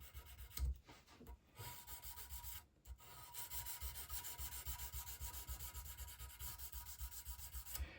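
Steady, continuous sanding of a guitar fret crown, a close, even rubbing rasp that pauses briefly once and then carries on without a break.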